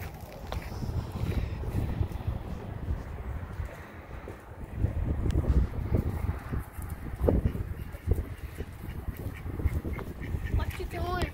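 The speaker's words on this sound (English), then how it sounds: "They just went and got the chickens and the ducks, and we're getting ready to put them back in." Ducks and chickens being put back into their pen quack repeatedly, a steady chorus of nearby quacking throughout, mixed with handling noise and shuffling.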